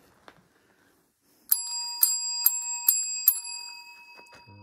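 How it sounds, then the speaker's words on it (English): A small bicycle-style bell at a cave during a paranormal investigation rings out in five bright strikes, each note ringing on into the next, near and clear after a quiet start. "Also have this bell."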